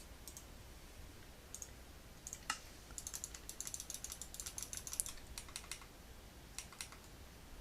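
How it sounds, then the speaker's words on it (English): A computer mouse button clicked repeatedly while playing Minecraft on hardcore mode, giving sharp, close, irregular clicks in quick bursts over a quiet background. "I'm clicking the right mouse button."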